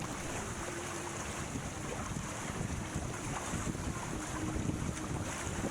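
Sailboat moving through open water on the Swedish west coast near Lysekil, with steady wind rushing over the microphone and soft wave wash beneath, no voices.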